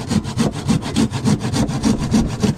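A machine saw cuts through wood with a steady rhythmic rasp, each stroke pulsing evenly and close by, with no talk over it.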